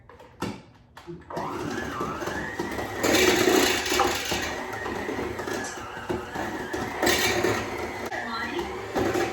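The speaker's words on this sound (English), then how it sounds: "The chicken's going through the hand blender things." A hand blender shreds cooked chicken in a kitchen with a loud, gritty motor whir that surges and eases in bursts, close up, after a few clacks of a lid, with a person talking over it.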